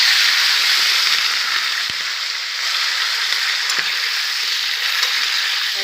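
Sliced ridge gourd and potato frying in hot oil after a spice tempering, for a thin tilapia fish curry: a loud, continuous hissing sizzle with a couple of faint clinks from stirring, and no talking.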